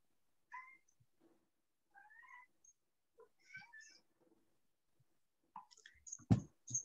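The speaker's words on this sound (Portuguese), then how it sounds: "Espera aí que eu vou retirar um gato do recinto aqui." A domestic cat meows several times indoors, rising and falling cries spaced across a few seconds, fairly close, ending with a louder bump and clatter.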